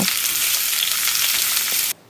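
Chicken pieces frying in hot oil give a steady, loud, close sizzle that cuts off abruptly near the end.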